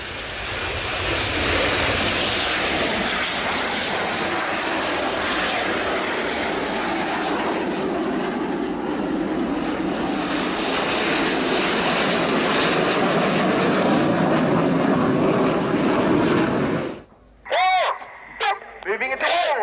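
Red Arrows BAE Hawk T1 jets with Rolls-Royce Adour engines roar loudly down the runway on takeoff at an airshow. The broad jet noise holds for most of the clip, then drops away, leaving brief gusts and quieter sounds.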